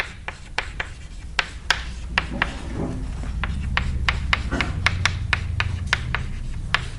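Chalk or marker strokes tap and scratch across a board while equations are written, a quick irregular series of close, crisp ticks and rubs with no speech over them.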